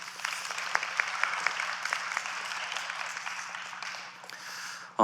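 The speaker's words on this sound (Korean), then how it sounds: "참여해주신 우리 세 분의 면접자분에게 큰 박수 부탁드리겠습니다" An audience at a job fair mock-interview session applauds steadily for several seconds, dense clapping that fades slightly before ending abruptly.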